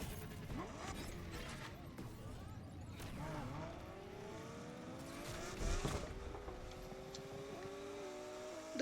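Race cars in Need for Speed Unbound, engines whining as they rise through the gears with repeated shifts, tire noise and other cars passing, fairly quiet overall.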